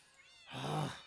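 A single Minecraft cat lets out one short, fairly loud meow against a quiet game background.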